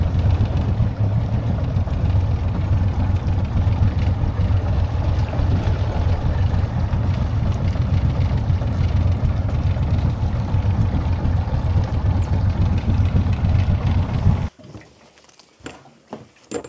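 A boat motor runs steadily on a Louisiana bayou, a loud, close, continuous low drone with no speech, cutting out abruptly near the end and leaving quieter scattered noises.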